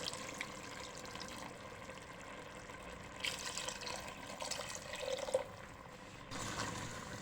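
About one and a half cups of water pour into a cooking pot of gosht tahari with meat and yogurt, a soft trickling splash in a few short bursts, faint and close, with no talking.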